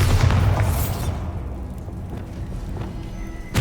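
A Bombarda blasting spell goes off in the video game Hogwarts Legacy, a loud low boom that rolls and rumbles for a few seconds before a second burst hits at the very end.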